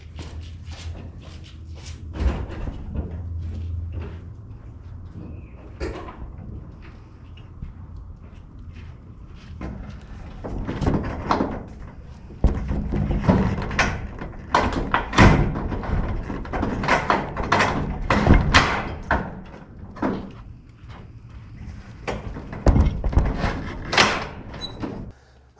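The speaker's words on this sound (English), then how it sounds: "let me go lock the door" Garage door noises for an '81 Corvette: a low sliding rumble, then a run of loud thumps, clanks and knocks as the door is shut and locked, with footsteps moving between them.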